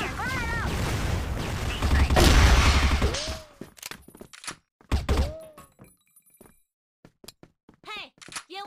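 Grenade and flashbang blasts in a shooter video game: a loud, dense burst of explosions and thuds, then scattered sharp gunshot-like cracks and clanks, with a player's voice talking over the game audio at times.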